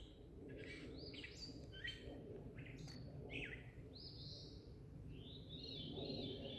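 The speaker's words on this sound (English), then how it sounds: "If anyone can listen closely to the sounds that these birds are making, I'd be very interested to know what kind of birds these are." Unidentified exotic birds calling outdoors, several faint chirping and warbling phrases scattered at a distance against a soft rustling background.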